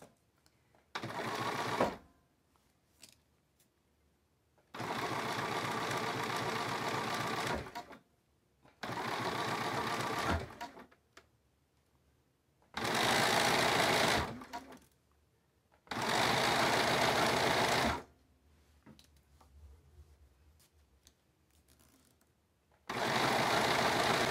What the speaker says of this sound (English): I am back stitching several times just to make sure that this elastic doesn't go anywhere